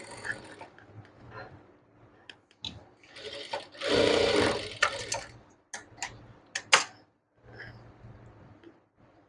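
A sewing machine stitching tucks on fabric runs in short irregular bursts of rapid mechanical ticking, with one longer louder run in the middle, close up, alone.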